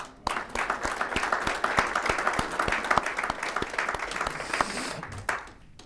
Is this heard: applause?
yes